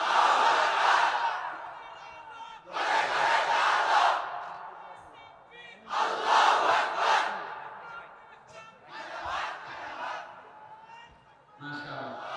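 A large religious gathering at a Ramadan sermon roars a loud, unified chanted takbir response in repeated bursts, each swell of many voices rising and falling, with pauses between the waves.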